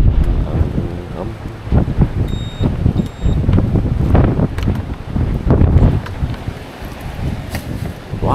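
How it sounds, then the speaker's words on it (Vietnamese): Strong coastal wind on Côn Đảo near a ranger station buffets the microphone in loud, rough gusts, with faint surf and a few voices talking underneath. "quá gió, bữa nay gió dữ ta"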